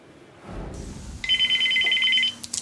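A telephone rings with one short, bright electronic tone, heard close after a moment of rustling.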